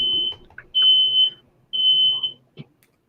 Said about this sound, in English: Oh, alarm's going off.